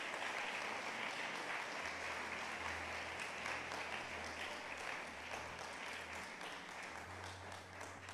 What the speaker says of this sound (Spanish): Démosle ese fuerte aplauso a Jesús.